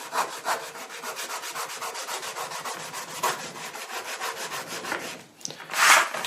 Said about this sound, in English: a bit of sandpaper, literally just to take off the dirt